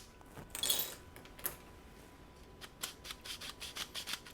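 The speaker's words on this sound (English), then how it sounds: "then you'll take a pair of scissors and cut off the back edge" Scissors snip off the back edge of a color film leader before it is wound onto a developing reel: a few quiet crisp cuts and rubbing handling noises, close and faint, with no talk.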